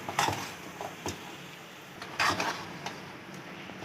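A spoon scrapes and knocks against a pan while besan halwa flavoured with cardamom is stirred, a few sharp clanks and scrapes spread over a quiet background.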